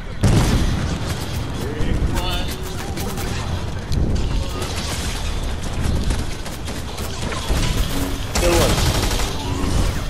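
Battle in Fortnite: dense rapid gunfire and booming rocket explosions layered over one another, loud and continuous, with voices talking underneath.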